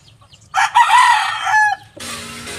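A rooster lets out a loud, close crow, followed by a burst of clucking from chickens in a backyard garden.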